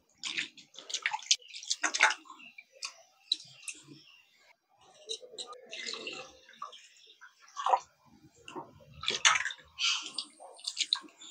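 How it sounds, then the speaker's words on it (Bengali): Flattened rice (chira) is washed by hand in water in a bowl, with repeated splashing, sloshing and clicking swirls in irregular bursts, close and fairly loud, with no talking. "চিড়েটা এখানে একটু পরিষ্কার করে ধুয়ে নেব"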